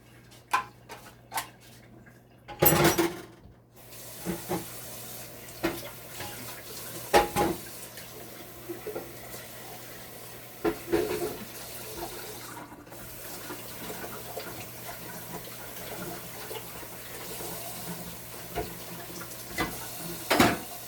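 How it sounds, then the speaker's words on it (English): Water runs steadily from a tap while dishes clink and clatter intermittently nearby, a long stretch of washing-up with no one speaking. "I just like to wash up everything as I go along"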